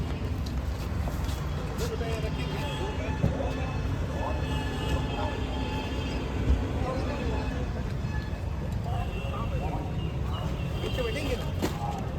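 Busy railway platform ambience at Nagpur station, with rumbling trains and rail traffic, scattered clatter and a wash of crowd noise, while people talk nearby.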